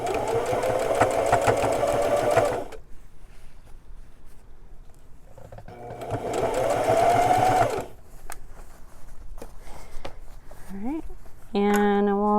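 A sewing machine hems stretchy jeans in two long, close bursts of rapid stitching chatter, separated by quieter handling sounds, with a few short tonal whirs near the end.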